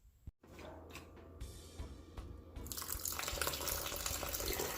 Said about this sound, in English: I always wash my vegetable with my vinegar water.